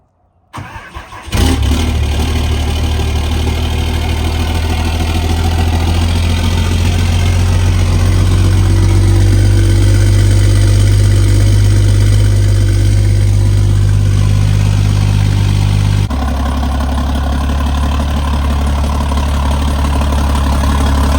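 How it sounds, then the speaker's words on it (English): A truck engine cold-starts after a brief crank, catching abruptly and settling into a loud, steady low idle close by, with a slight drop in pitch near the end and no talking. "Let me get a cold start for you guys"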